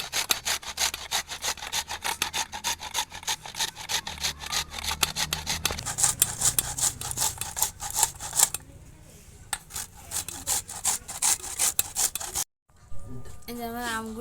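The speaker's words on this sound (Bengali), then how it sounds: "এবার আমি এই ছোটো ফাঁস দিয়ে গ্রেট করবো, বড়ো ফাঁসতে করলে বড় বড় হয়ে যাবে, তাই ছোটো ফাঁসতে আমি সবগুলো আম গ্রেট করে নেব।" Raw mangoes are rubbed fast over a fine grater for pickle laddu, making a rapid, rhythmic rasping scrape that carries on steadily, pauses briefly, then resumes before a short break and a few faint clinks.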